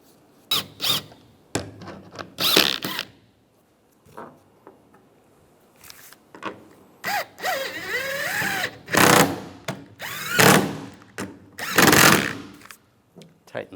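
Power tool tightening bolts on a Chevrolet Silverado tailgate: several short, loud whirring bursts with pauses between them, close by.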